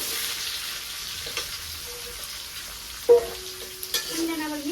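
Low, steady sizzle of a chili and turmeric tempering frying for sweet gourd, with a sharper burst of spattering partway through and faint tonal clinks.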